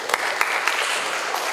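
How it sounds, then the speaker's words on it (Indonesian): A seminar audience claps briefly, a short burst of scattered, moderately loud applause with a few sharper individual claps standing out. "Tepuk tangan dulu."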